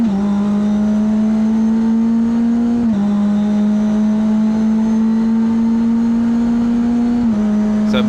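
A McLaren GT race car engine drones loudly and steadily at high revs as the car accelerates from a race start, with a brief dip near three seconds and another near seven as the pitch shifts with gear changes.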